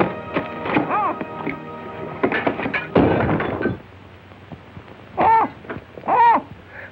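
A bird, apparently an owl, gives two clear hoots close by in a 1938 film, following a burst of clunks and knocking sounds.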